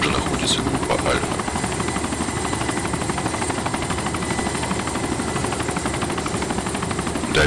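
Steady, loud rotor and turbine drone inside a helicopter in flight in the ArmA 2 video game, a dense continuous roar that fills the whole stretch.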